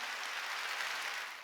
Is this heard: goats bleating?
no